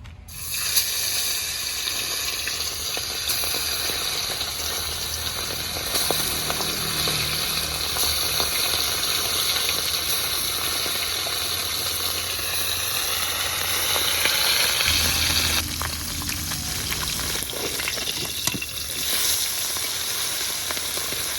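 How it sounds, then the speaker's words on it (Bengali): Bata fish frying in hot oil in a wok gives a loud, continuous close sizzle, with occasional stirring scrapes and crackles throughout. "মাছ ভেজে নেওয়ার জন্য কড়াইয়ে তেল দিয়ে দেবো ভালো করে গরম করে নিয়েছি"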